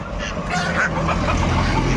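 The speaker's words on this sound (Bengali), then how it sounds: "এই কে ডাকছে দেখি হাঁস না দেখি" A duck calls with a few honking quacks over steady background noise at a market where ducks and country chickens are kept.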